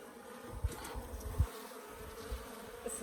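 Africanized hybrid honeybees hum around an open hive during an inspection in southern Arizona, a soft steady drone with a few brief louder bumps and thuds close by.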